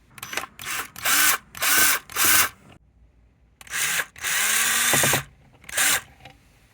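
A power drill backs Phillips screws out of a 2016 Jeep Cherokee dash in several close, loud whirring bursts of uneven length with brief pauses between them.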